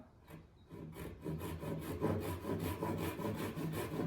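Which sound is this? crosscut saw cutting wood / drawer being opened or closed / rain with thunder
crosscut saw cutting wood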